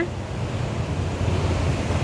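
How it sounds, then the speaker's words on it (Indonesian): Big ocean waves surge and roll onto a beach at Pelabuhan Ratu, a steady loud wash of surf with wind noise across the microphone, continuous throughout with no talking. "di depannya itu ada pantai ombak gede banget"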